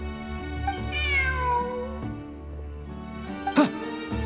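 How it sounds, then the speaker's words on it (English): A cat in Genshin Impact gives a clear, drawn-out meow that falls in pitch, followed later by a shorter, sharper meow over a steady game soundtrack. "Look! A cat!"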